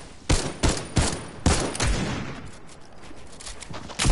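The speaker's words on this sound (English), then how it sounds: "Oh, they're getting shot." Rapid bursts of gunfire in a Fortnite match crack out close and loud, four or five sharp shots in quick succession, then the sound trails into a rumbling echo and scattered background noise.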